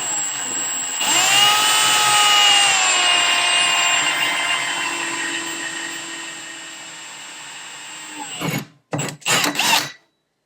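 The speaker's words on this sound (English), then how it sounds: "I'm going to get the pilot bit through and then take it out and check on the other side" A power drill bores a pilot bit hole through a tray, its motor whine sustained and fairly loud for about eight seconds, pitch sliding slightly as it cuts, then a few short bursts as the bit breaks through and is pulled out.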